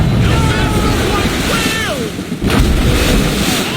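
Ship cannon fire at sea in Assassin's Creed Rogue: loud booms over a steady wash of waves and wind, with shouted crew voices and whistling projectile sweeps mixed in.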